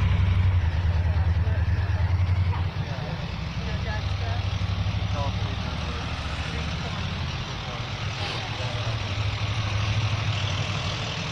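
Cars and trucks roll through street traffic in a steady, loud rumble of engines and tires, with a low idling drone underneath and people talking over it.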